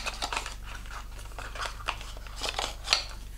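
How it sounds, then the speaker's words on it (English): Sephora skincare product packaging being opened up close, with a series of crisp snipping and scratchy tearing sounds in irregular bursts, with no talking. "I will go ahead and open this up so you can see what the packaging looks like."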